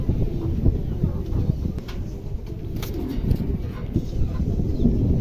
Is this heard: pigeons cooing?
yes